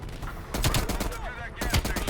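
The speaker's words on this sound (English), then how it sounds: "Oh, it's a shotgun." Shotgun blasts in Call of Duty: Black Ops Cold War, a few loud, sharp booming shots in quick succession, each with a short rumbling tail, alone without talk.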